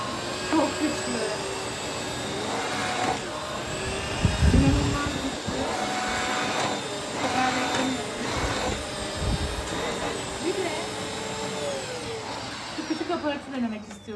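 A Dyson Cinetic Big Ball Absolute 2 vacuum cleaner motor hums steadily throughout at moderate loudness, with a few louder bumps and rattles partway through.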